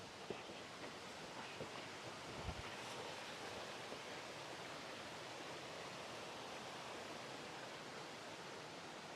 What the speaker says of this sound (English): A little waterfall there.